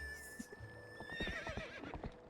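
A horse in Zelda Twilight Princess gives a loud, shrill whinny that rises and then trails off, with soft clip-clopping hooves underneath and no voices.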